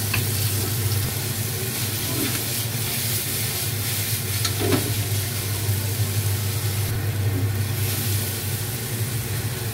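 Chopped garlic and onion sautéing in a hot pan for an ampalaya and egg dish, a continuous loud sizzle with faint stirring scrapes over a steady low hum.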